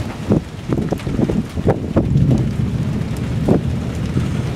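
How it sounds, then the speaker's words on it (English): A thunderstorm rolls in with rain and strong wind, heavy buffeting gusts against the microphone and low rumbling outdoors. "we got a hell of a storm coming. It's already started to drizzle and rain."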